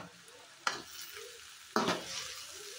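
Cauliflower bhaji frying in a pan, a soft low sizzle punctuated by two sharp, close stirring scrapes about a second apart.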